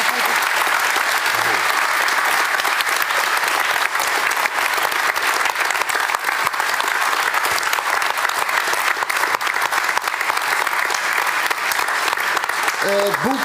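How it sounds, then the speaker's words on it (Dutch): Audience applause after a public discussion at the Dam in Amsterdam, long sustained loud clapping from a large crowd at constant level, with brief hints of voices near the edges. "Heel hartelijk applaus."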